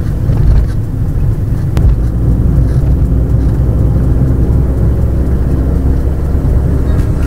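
Steady road traffic on a ghat road near Lonavala on a Sunday, with a continuous low rumble of passing cars and engines, fairly loud and unbroken throughout.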